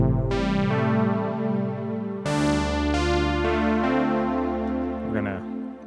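TEO-5 synth played through a Big Sky MX reverb on an init patch with the cloud algorithm: sustained chords with bright attacks change every second or so, washing into a long, smooth, lush reverb tail.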